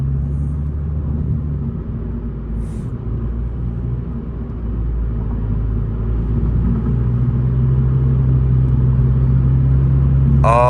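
A 10th gen Honda Civic hatchback with a catless downpipe and CVT transmission drives at night, its deep, steady exhaust drone and road rumble building gradually from inside the cabin, with a brief voice near the end.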